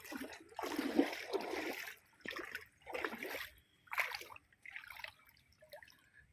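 Water spilling from an overflowing temple pond, a splashing, trickling flow that surges and eases in uneven bursts over several seconds, close by and moderately loud, with no talking.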